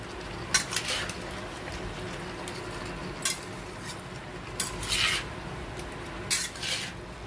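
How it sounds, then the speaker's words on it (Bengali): Yogurt-marinated chicken is stirred and fried in a kadai, with a steady low sizzle and several scraping, clattering strokes of a utensil against the pan at irregular intervals, close and moderately loud. "এই যে ওপর নিচ করে আমি নেড়ে নিচ্ছি।"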